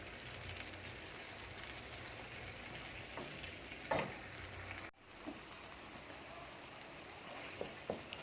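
Onions fry in a pan on full heat for a fish curry, giving a steady, fairly quiet sizzle with a few small pops and a brief stir sound.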